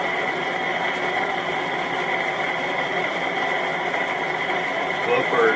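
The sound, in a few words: dual rotor pulse motor running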